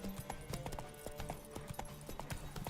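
Horse hooves clip-clop in a steady, quick rhythm along a path in a video game, the repeated hoofbeats close and clear over low game ambience, with an occasional faint whinny.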